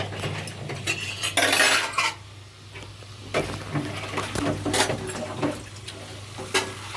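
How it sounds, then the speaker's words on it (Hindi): Metal utensils clatter, scrape and knock against a small kadhai and other pots in a home kitchen during Navratri fasting cooking, a busy run of irregular clanks and stirring over a low steady hum. "जब ये काम करती है ना किचन में आकर लड़की, तो धड़ पे बर्तनों को मारती है"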